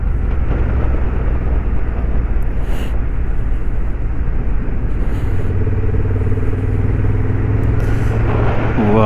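A Honda CB750 motorcycle cruising in fourth or fifth gear at high altitude in Himachal Pradesh, its engine a loud, steady low drone mixed with buffeting wind, with a slightly rising tone toward the end.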